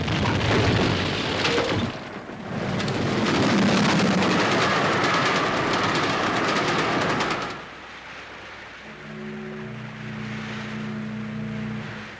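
A train rumbling along loudly with steady rolling noise, then fading to a lower hum with tonal sounds.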